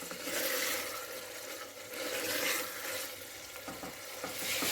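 Meat frying and being stirred in hot oil for biryani, a steady close sizzle with bursts of stirring and scraping that swell and ease in waves, with no voices.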